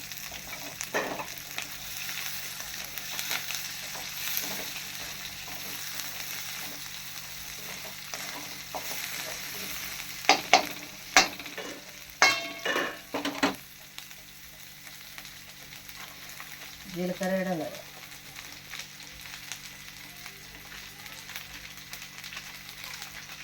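Peeled garlic cloves frying and being stirred in a pan for a Telugu coconut, roasted gram and green chilli chutney: a steady low sizzle throughout, with a cluster of sharp scraping clatters near the middle and a brief rising squeal later.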